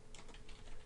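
Quick run of keystrokes on a computer keyboard while typing a command at a command prompt, several soft clicks in a brisk rhythm close to the microphone.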